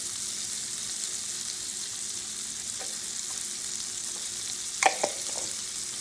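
Garlic frying in a wok gives a steady, soft sizzle throughout, with a brief clatter of stirring near the end.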